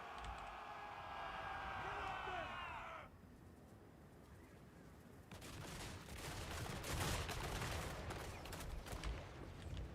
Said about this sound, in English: Hand gunners! Shoot them!